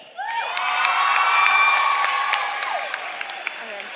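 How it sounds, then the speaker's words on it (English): Crowd at a high-school Scholar Bowl trivia event breaks into loud applause and cheering with shouts and whoops, swelling quickly and sustained for several seconds before easing slightly, with higher children's voices mixed in. "And a final round of applause for the reader of this year's Scholar Bowl, Mrs. Fouette."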